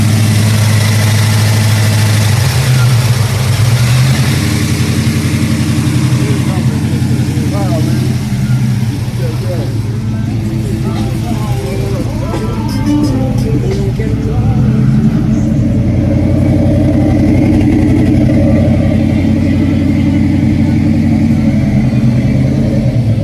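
A big block V8 sits idling in a car at a shop, a steady low rumble with heavy vibration running throughout, while people talk nearby over the engine.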